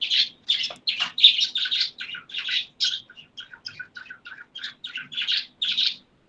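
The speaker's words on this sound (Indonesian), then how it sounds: "Suara burung." Small birds chirp and tweet in a busy run of short, bright calls, one after another with brief gaps, fairly faint against otherwise quiet surroundings.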